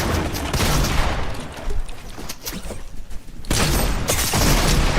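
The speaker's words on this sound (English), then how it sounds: "they're sending grenades at me" Grenade blasts and gunfire in the Fortnite video game, dense loud bursts of shots and explosions with a brief quieter gap in the middle before heavy fire resumes, with no talk.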